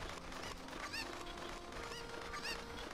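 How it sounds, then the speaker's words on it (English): Chickens in The Legend of Zelda: Ocarina of Time give a few short, high clucks at irregular intervals over a quiet game background hum. "Are there two chickens down here now?"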